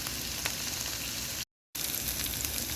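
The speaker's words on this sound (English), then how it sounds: "Here I got a whole red onion, and I put in some olive oil, and I'm sauteing that." Whole red onion sautéing in olive oil in a pan for jollof rice: a steady, loud, close sizzle and crackle throughout, broken by a brief gap of silence midway.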